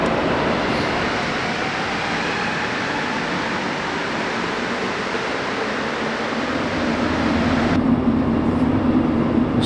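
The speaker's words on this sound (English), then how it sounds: "I think I just missed my train." A Montreal Metro train pulls out of a station on the Orange Line, a loud steady rumble and rolling roar that shifts and thins toward the end as it leaves, with no talking.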